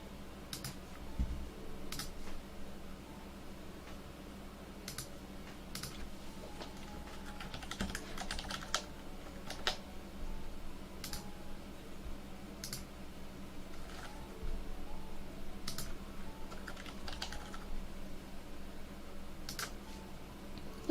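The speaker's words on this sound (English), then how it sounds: "It became keyboard ASMR." Soft typing on a computer keyboard with silent red switches, heard as quiet, muffled, irregular key clicks and occasional bursts over a low steady hum, close but faint.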